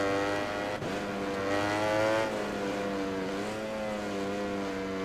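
A motorcycle engine in the MotoGP 20 video game whines through a lap, a steady, moderately quiet tone with gear shifts and pitch sweeps as it accelerates and slows.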